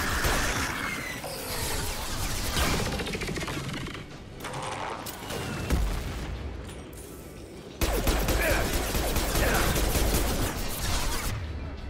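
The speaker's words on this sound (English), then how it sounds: "Concussion shot." A Concussion Shot biotic power fired in the Mass Effect 2 Legendary Edition game, heard as loud, busy combat with mechanical clanks and bursts of gunfire, a heavier impact near the end over continuous battle noise.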